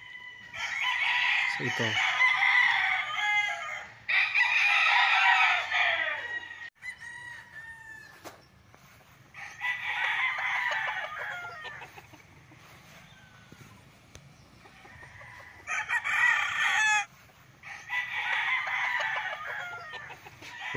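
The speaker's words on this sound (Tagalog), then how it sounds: "Ito pala, dito pala nagtitrain sila ng mga manok." Gamecock roosters at a game farm with a small training cockpit crow repeatedly, long loud calls overlapping from several birds near and far, with clucking between and someone speaking briefly.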